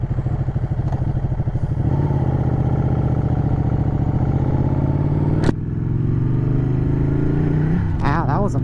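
A Ducati Panigale sportbike rumbles and revs under throttle while riding, the engine note rising and holding steady with a sharp burst, close and loud, as the rider talks over it.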